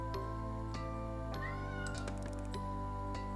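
A cat meows repeatedly in the video game Purrfect Date, with several clear, close meows set over steady background music and chiming tones.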